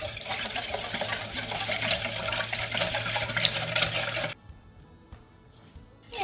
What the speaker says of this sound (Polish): mieszamy to od czasu do czasu.